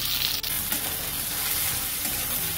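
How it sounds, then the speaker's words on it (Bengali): Ground spices with salt, turmeric and Kashmiri red chilli powder fry in a pan with a steady close sizzle, while a spoon stirs and scrapes through them. No one speaks. "ভালো করে নাড়িয়ে দেব। গ্যাসের ফ্লেমটাকে এই সময় লো করে দিতে হবে, না হলে মশলাগুলো পুড়ে যেতে পারে।"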